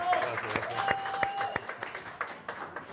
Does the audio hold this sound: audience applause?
yes